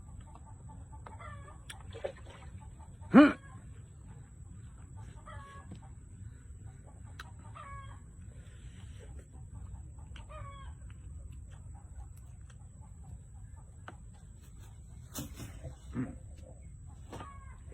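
Two caged chickens cluck in short, scattered calls over a low steady hum, with a couple of louder squawks standing out near the start and end.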